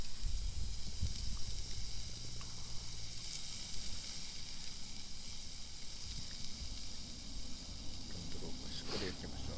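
Salt-and-pepper seasoned meat sizzles on a grill over a campfire at a seaside camp, a steady close hiss and crackle throughout, with people talking quietly over it.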